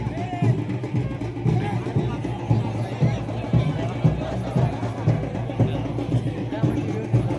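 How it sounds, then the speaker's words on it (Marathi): Large festival crowd at the Shimga festival in Konkan, Ratnagiri: a dense, steady murmur of many voices and bustle close around, with occasional louder thumps and calls rising above the constant babble. "यंदा गर्दी पण भरपूर आहे शिमग्यावरती"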